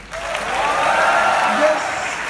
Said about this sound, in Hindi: उनके नाम पे हूटिंग, उनके नाम पे जो जबरदस्त चिल्लाना वगैरह